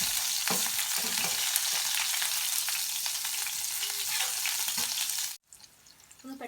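Chopped onions sizzle and crackle steadily in a hot pan, with a loud, continuous frying hiss and occasional stirring scrapes before the sound drops away abruptly near the end.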